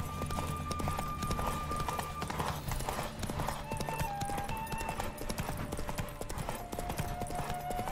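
A horse gallops in a race in The Witcher 3, with rapid, steady hoofbeats running throughout over constant background game sound.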